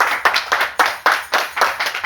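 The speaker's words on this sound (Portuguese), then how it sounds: "Vamos aplaudir a Jesus" A church congregation claps in a fast, regular rhythm, with sharp, loud, evenly spaced beats close by and no talk over them.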